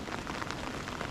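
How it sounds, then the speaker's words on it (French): Steady rain patters on surfaces beside a river during a fishing session, a dense, even hiss of drops close around with no pauses over the brief stretch. "depuis que je suis arrivé, ça s'est jamais arrêté de pleuvoir"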